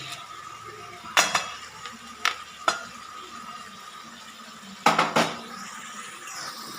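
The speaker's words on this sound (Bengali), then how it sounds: "একবার মশলার সাথে আলুটাকে ভালো করে কষবেন" Fried potatoes being stirred into spice masala for a vegetarian brinjal curry, with a metal spoon scraping and knocking against the pan in scattered clatters, including a double clank near the end, over a soft steady background.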